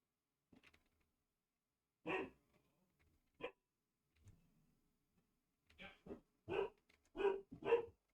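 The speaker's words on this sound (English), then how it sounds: "Oh no, puppy barking again." A puppy barks in short, sharp yaps: a few scattered barks, then a quicker burst of several near the end, fairly faint against an otherwise quiet indoor room.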